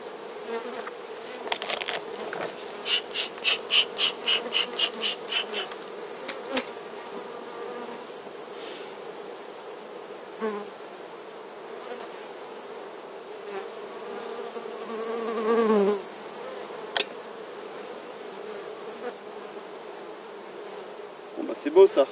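Black honeybees hum steadily in a swarm-like drone while being transferred from an 8-frame Dadant hive into a 12-frame Warré hive, with brief louder buzzing bursts and small knocks rising over the constant near hum.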